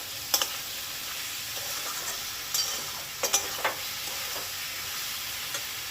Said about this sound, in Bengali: এই মশলাটা যতক্ষণ না তেল ছাড়ছে এবং আদা রসুনের কাঁচা গন্ধটা ছাড়ছে ততক্ষণ কিন্তু খুব ভালো করে কষিয়ে যেতে হবে